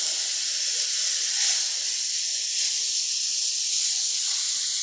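Ground beef sizzles in a pan over medium-high heat for a pizza casserole, a steady loud hiss that holds through the whole stretch with no talk over it.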